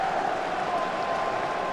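Applause after a goal in a 1997 Cup Winners' Cup football match between Chelsea and Tromso, a steady wash of clapping and crowd noise throughout.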